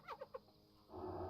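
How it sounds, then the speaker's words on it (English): Birds chirp in the ambient soundscape of the Wetlands zone in World of Warcraft: three quick, faint chirps in a row, then a soft hiss of background ambience. "Hear the birds chirping."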